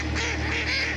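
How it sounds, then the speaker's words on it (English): Many ducks and geese quack and honk together outdoors by a waterway with boats, a dense continuous flock chorus close by. "Lots of ducks today."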